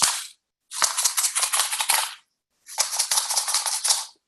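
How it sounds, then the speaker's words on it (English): Shamanic rattle shaken in a fast, steady rapid-fire pattern, loud and close, in three bursts separated by brief silences. "So after a while, I'm going to stop rattling, and you'll hear me"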